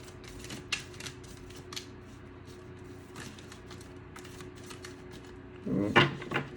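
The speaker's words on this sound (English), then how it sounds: "Let's do a couple more shuffles." Tarot cards are shuffled in a series of quick, soft riffling bursts, ending in a louder flurry of flicking cards close by.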